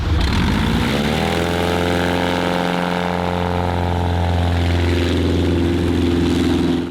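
A small Cessna light aircraft's piston engine and propeller drone steadily and loudly close by, settling into a lower, smoother tone as power is pulled back, with no talk over it.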